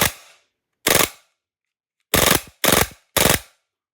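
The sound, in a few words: VFC Umarex Glock 18C airsoft gun with FMG9 conversion firing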